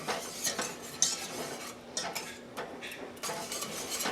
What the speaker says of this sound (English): Okay, and let's get this stirred together now and get this butter melted.